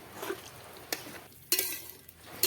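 Potato and soybean curry being stirred in a pan after salt and water are added, giving soft scraping and clinking strokes of a spoon against metal with a faint simmering wash underneath, close and fairly quiet.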